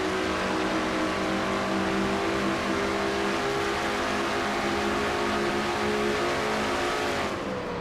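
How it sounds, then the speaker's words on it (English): Onboard engine of a stock race car in a sim racing video game league race, a steady, loud, sustained high-revving drone running flat out for the whole stretch, easing slightly near the end. "And now from inside Joshua Osborne's car"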